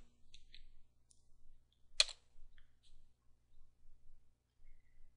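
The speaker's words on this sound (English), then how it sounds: "the listings for Nancy's account by typing in CHAGE space dash L space Nancy." Quiet, sparse keyboard clicks from typing a command on a computer, with a few isolated taps and one sharper keystroke over a faint low hum, no voices.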